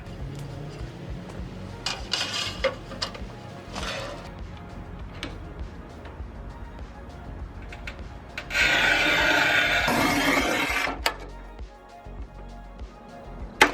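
A Monster RTC Razor manual tile cutter scores and snaps a huge 18 by 36 inch porcelain tile, with scattered scraping and clicks followed by one loud, sustained bright rasping stroke across the glaze, close and alone with no talk.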